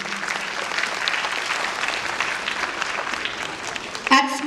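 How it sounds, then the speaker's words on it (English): An audience at a school event claps steadily, a dense patter of applause that holds for several seconds at a moderate, even level. "Claps, please."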